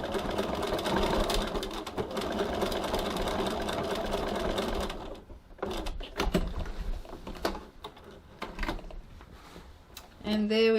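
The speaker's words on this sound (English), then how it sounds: "Back tacking here to hold." A sewing machine stitches back and forth in bursts, back tacking a slip pocket on a tote bag. The motor runs steadily at first and then breaks into short runs with pauses, and there is a brief voice at the end.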